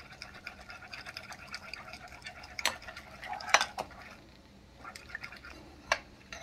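A spoon stirs a Colgate toothpaste mixture in a small container, giving soft scraping and a few sharper clinks against the sides, close and fairly quiet.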